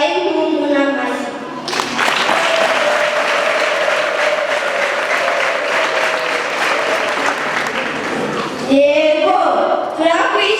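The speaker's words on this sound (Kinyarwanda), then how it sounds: "Mudufashe tubahe impundu n'amashyi." An audience at a Don Bosco youth Patronage closing ceremony breaks into loud, sustained applause lasting about seven seconds, with a speaker's voice heard just before it starts and right after it ends.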